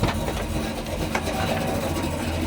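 A 1967 Pontiac GTO tribute with its engine idling, a steady low rumble running evenly and close by throughout, with no talking over it.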